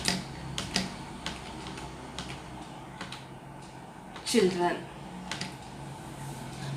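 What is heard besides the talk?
typing text on a computer keyboard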